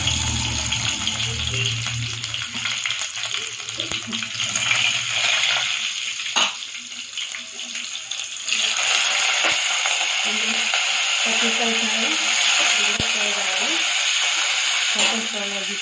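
Onions sizzling in hot oil in a pan while making ulavacharu curry, a loud steady frying hiss that grows denser midway, with occasional stirring clinks.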